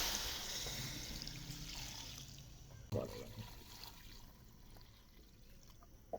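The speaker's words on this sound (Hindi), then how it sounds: "तो अभी हम इसमें पानी ऐड कर देते हैं।" Water being poured into a pressure cooker holding browned beef trotters, a soft continuous pouring and trickling that gradually fades, with a small clatter near the middle.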